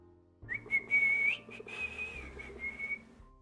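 Close lip whistling by a person, a pure sustained tone that rises and dips slightly across a few connected phrases, soft and alone without speech.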